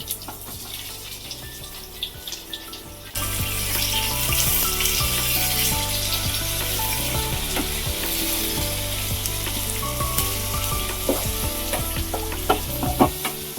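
Dried red chillies, cumin and sliced onions hit hot oil in a kadai for a rasam tempering. A quieter start gives way after a few seconds to a loud, steady, close sizzle with scattered stirring clicks, and no voices.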